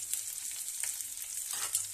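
Chopped onion, green chilies and carrots sizzle in a hot pan for pasta, a steady close crackling fry with bright hissing bursts, no voices.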